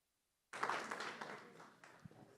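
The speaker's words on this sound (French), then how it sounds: "Je pense qu'on peut applaudir tout le monde encore une fois" Applause from the audience at a French round-table session on ADHD, starting abruptly and holding as a dense, steady wash of clapping that thins slightly toward the end, fairly close.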